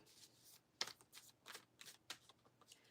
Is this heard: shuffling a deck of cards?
yes